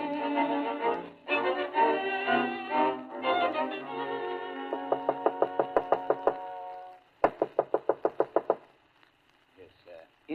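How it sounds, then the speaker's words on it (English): Knocking on a door in a vintage radio drama: two bursts of sharp, evenly spaced raps, loud and close, heard over and between a voice and background music. "whenever you hear that particular rapping on that particular door"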